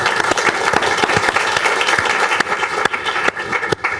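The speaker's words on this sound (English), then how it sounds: "everyone just give Giza and Bonnie just a very quick round of applause" An audience at an advocacy talk on death with dignity breaks into a brief, loud round of applause, dense clapping that stays steady and close, with a few sharper individual claps standing out.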